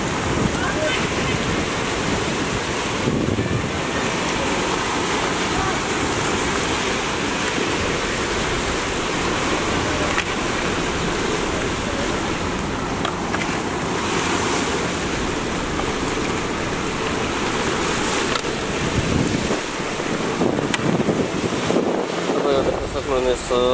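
Swollen Narayani river in flood, its water rising toward riverside houses, sends up a continuous loud rushing roar with gusts of wind buffeting the microphone, the churning flow steady throughout.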